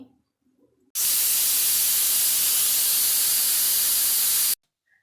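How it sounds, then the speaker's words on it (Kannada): A pressure cooker of sprouted horse gram rice bath releases steam in one loud, continuous hiss lasting several seconds, close by, starting and stopping abruptly with near silence around it. "ಇವಾಗ ಮುಚ್ಚುತ್ತೀನಿ ನಾನು ಒಂದು ಎರಡರಿಂದ ಮೂರು ವಿಷಲ್ ಹೊಡೆಸ್ತೀನಿ"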